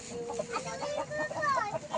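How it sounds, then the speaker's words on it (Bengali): Chickens cluck in a rapid, close series of short calls from a hen sitting inside a house, with one higher squawk midway and faint background noise. "ওই যে মুরগি"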